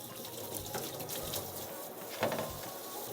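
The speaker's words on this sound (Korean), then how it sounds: "미지근한 물로 한번 깨끗이 씻은 다음에" Dried filefish jerky is rinsed in lukewarm water, a soft continuous splash and trickle with a brief louder slosh near the end, fairly faint and close.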